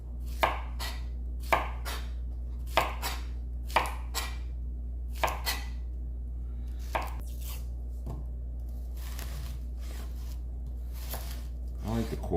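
A knife chops through an onion on a cutting board, cutting it into quarters while a venison roast is prepared: about seven sharp, separate cuts at an uneven pace, close by, over a steady low kitchen hum.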